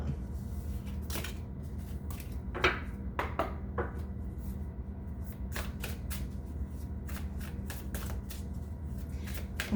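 Tarot cards are shuffled by hand in a steady, close run of riffling, flicking bursts, with a few sharper snaps among the softer papery rustle.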